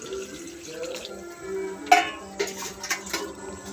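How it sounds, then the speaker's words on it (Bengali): Water pours from a mug into a pot of chicken curry in a home kitchen, a soft wet splash with a few sharper clinks and drips, fairly quiet against background room noise. "এরপর যাবে এক মগ জল"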